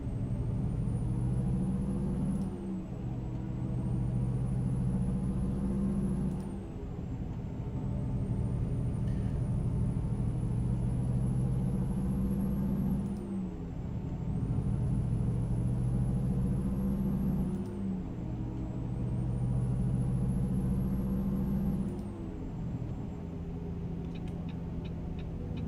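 Truck engine in the American Truck Simulator game, a steady loud diesel drone that rises through the gears in repeated cycles, with a hiss of air brakes between shifts and no talk.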